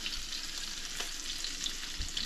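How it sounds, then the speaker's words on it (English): Puffball mushrooms fry in butter and garlic in a pan, giving a steady, close, even sizzle with a few faint pops and no voices throughout. "I'm just dropping in on butter and garlic"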